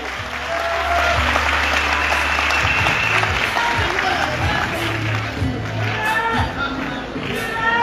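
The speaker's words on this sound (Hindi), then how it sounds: "एक बार फिर से तालियां बजाकर सर का स्वागत करें।" Audience applause at an annual function of a coaching institute branch, welcoming a guest: dense, steady clapping from a sizable crowd throughout, close and loud, with a brief low hum early on.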